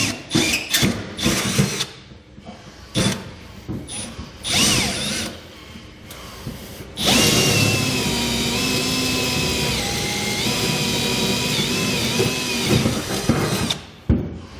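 Short bursts of a power drill and clattering at first, then a long continuous drilling whine through a metal truck-bed cross member for fifth-wheel hitch pilot holes, holding steady before cutting off.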